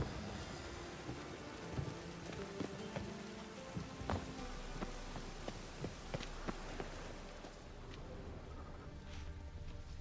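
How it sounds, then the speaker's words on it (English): Steady rain pours in The Witcher 3: Wild Hunt, a dense hiss of drops with scattered louder splashes and faint rumbles running through the whole stretch, no voices over it. "Rain like this would fetch a fortune in Zerrikania."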